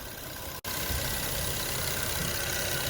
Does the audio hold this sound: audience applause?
no